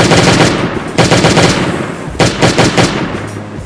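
Rapid bursts of automatic gunfire from the survival video game Last Day on Earth: Survival, loud and close, in two dense volleys separated by a brief lull.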